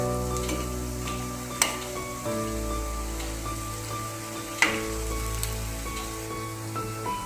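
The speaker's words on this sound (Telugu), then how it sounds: "ఇలా బయట కనిపించే ఉల్లిపాయలన్నీ ఎర్రగా అయ్యేంత వరకు వేపుకోవాలి." Onion pakodas deep frying in hot oil, browning until crisp, give a steady soft sizzle and bubbling throughout, with a few sharp clinks of a utensil at intervals and no voices.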